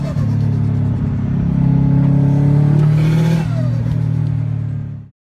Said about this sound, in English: here's the most stereotypical Fast and Furious racer turbo noise you can get.